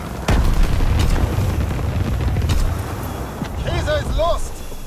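Strafing explosions from a fighter pilot run in Call of Duty: WWII, a sharp blast followed by a dense rolling rumble of booms and gunfire, loud and close, with a voice speaking over the later part.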